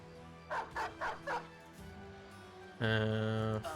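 A dog yelps in the video game Battle Brothers, four quick rhythmic yips followed by a longer whimpering whine over a steady game music bed, with no talk.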